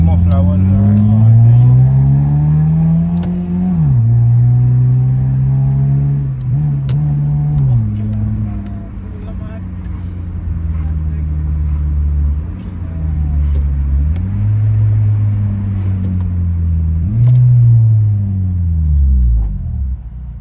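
A Honda Civic fitted with a Spec D exhaust muffler revs repeatedly, its close, loud engine note climbing and dropping in several sweeping surges over a deep rumble, with voices talking underneath.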